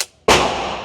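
A single sharp pistol shot from a CZ handgun with a flared magwell and gas pedal, fired outdoors at a range, a loud close crack that rings out briefly after the tail of an earlier shot.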